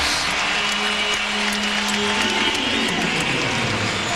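Basketball arena crowd at an NBA game between the 76ers and Grizzlies, continuous cheering and applause, loud and dense, with organ-like tones running under the noise.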